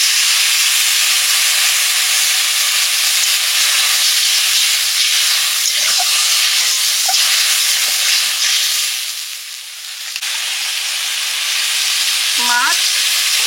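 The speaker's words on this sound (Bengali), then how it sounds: "এবারে দিয়ে দিচ্ছি তেঁতুল ভেজানো জলটা।" Tamarind-soaked water hits a hot pan of spiced fish curry with chili powder and turmeric, set to be cooked with eggplant and potato. A steady, loud, broad sizzle and hiss runs throughout, with a few brief clinks and a short squeak near the end.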